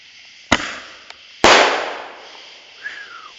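Mini fireworks and firecrackers explode outdoors at a small backyard show: one sharp bang, then a louder blast with a long, fading crackle. A faint whistle follows near the end, with no talking.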